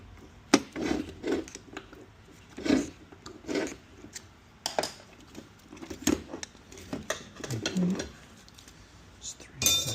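Metal parts of a 2014 GMC Acadia 6T70 transmission are pried apart, with scattered close clinks, scrapes and rubbing knocks in an irregular rhythm, fairly quiet.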